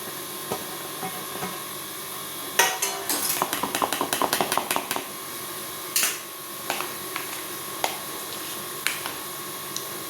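Vegetables being mixed into yogurt for a homemade veg biryani in a home kitchen: a quick burst of rapid clinks and taps of a spoon against a bowl, then scattered single knocks with quiet pauses between them.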